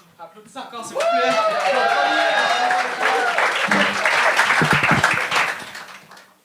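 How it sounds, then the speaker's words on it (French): A comedy show audience claps loudly and steadily at a Gong Show taping, with whoops and shouting voices mixed into the applause before it thins out at the end. "Applaudissez encore, s'il vous plaît"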